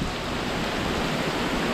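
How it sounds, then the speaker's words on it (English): Rain beginning to fall at Manatee Springs State Park in Florida, a steady broadband hiss of dense falling drops, loud and unbroken with no voices. "and then it started raining"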